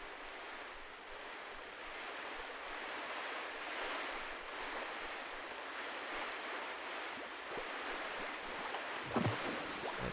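Noisy water waves in a video game, heard as a steady, fairly faint broadband wash of surf that rolls on without pause, with no voices, and a brief knock near the end.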